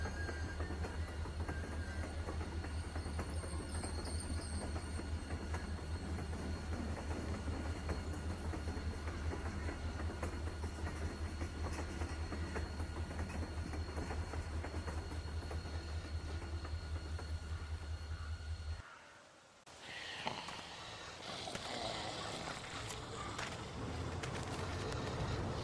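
A train rolls steadily in The Walking Dead Season 1 game, with continuous rumbling and clattering wheels and a faint whine for about nineteen seconds, then a sudden brief drop before the rumble returns.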